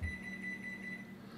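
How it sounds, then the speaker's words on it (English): A steady electronic beep tone sounds continuously at moderate volume, a single sustained oven buzzer signaling it has preheated to 350 degrees, with faint background hum. "you heard the buzzer, that is the oven heated to 350"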